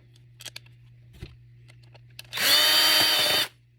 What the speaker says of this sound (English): Take your screws, uno, dos, reverse the direction on your drill